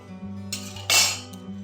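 A spatula scrapes and clinks against a pan while stirring whole coriander seeds for a Bengali olive (jolpai) pickle, with a steady hum under it and a louder scraping burst midway.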